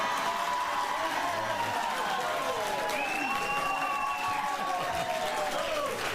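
A talk show studio audience applauds steadily throughout, a thick wash of clapping with voices talking over it.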